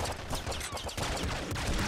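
Rapid bursts of disc gun fire from the video game Nuclear Throne, a dense clattering barrage of shots that runs continuously and loud for under two seconds.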